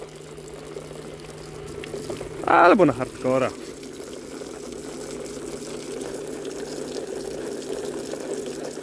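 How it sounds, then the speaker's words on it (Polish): Water drains steadily through the safety valve of a Panasonic heat pump, a continuous rushing hiss that runs the whole time, with a short burst of talk near the start. "Spuszczę sobie teraz zaworem bezpieczeństwa, popatrzcie, wypuszczę sobie wodę."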